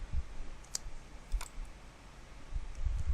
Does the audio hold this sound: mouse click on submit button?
yes